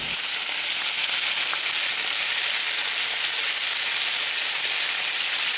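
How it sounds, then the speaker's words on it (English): Breaded perch fries in a pan with a dense, constant hiss of sizzling oil, close and bright, with small crackles and pops and no voices. "I got some perch already frying from the trip"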